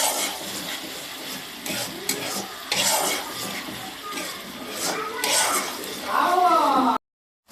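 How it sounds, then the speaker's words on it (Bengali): Cumin paste, green chili paste and ginger paste sautéing in a pan for a pointed gourd dish: a steady close sizzle broken by repeated scraping stirs, with a voice speaking faintly near the end. "এবার এটা আমি কিছু সময় কষিয়ে নিব"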